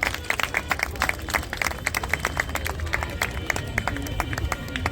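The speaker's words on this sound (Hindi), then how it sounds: "अब एक जोरदार तालियों से इनका इस्तकबाल करें।" A live audience at a Bait Bazi poetry event in Lucknow claps to welcome performers, a brisk scattering of individual claps with a murmuring crowd and some talk underneath, fairly close and steady.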